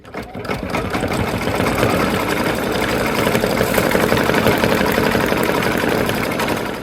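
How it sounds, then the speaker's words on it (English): An embroidery machine stitches out a decorative border on a Kimberbell Nativity bench pillow in a small 5x7 hoop, giving a loud, steady, rapid mechanical chatter that runs continuously. "it's going to do another decorative stitch on the outside of it"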